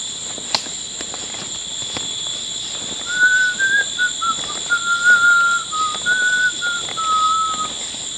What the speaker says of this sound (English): I'm just kind of whistling to see if I can draw it to me.